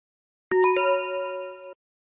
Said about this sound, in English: The dog's bell.